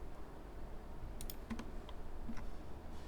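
A few soft, quick computer keyboard key presses, faint and close, spaced irregularly over a quiet room hum.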